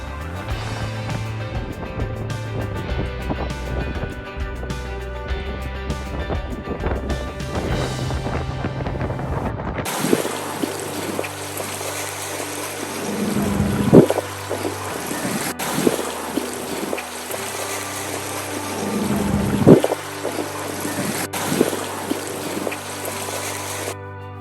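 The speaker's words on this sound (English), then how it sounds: "Let me just keep the wind sound as it is for you to get the exact feel of how windy it was there" Strong wind buffets the microphone near the Statue of Liberty, with a steady roar and louder gusts throughout; the first part is mixed with other sound before the wind takes over alone.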